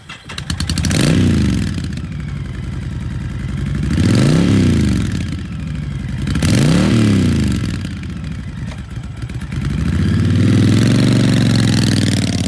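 A used 2016 Honda Fury 1300cc V-Twin chopper motorcycle idling with a deep, loping rumble, revved several times in swelling rises and falls, loud and close with no talking.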